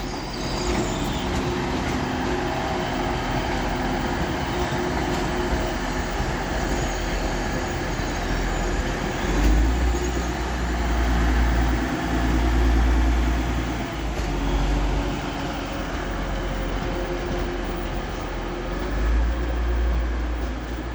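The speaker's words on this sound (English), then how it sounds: "now departing is 185-106 with a Transpennine Express service to Manchester Piccadilly" Class 185 TransPennine Express diesel unit departing Leeds station for Manchester Piccadilly: a steady, loud, deep engine rumble that builds and swells as the train pulls away, with a constant hum beneath it.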